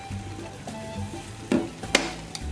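Blended turmeric poured into a pot of boiling water while making homemade jamu sinom, giving a brief soft splash and bubbling with faint clinks, fairly close and quiet.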